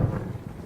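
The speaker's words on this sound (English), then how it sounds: "now it's thundering" Low rolling thunder rumbles steadily through a darkening box canyon in the video game Firewatch, a deep continuous boom with no talk over it.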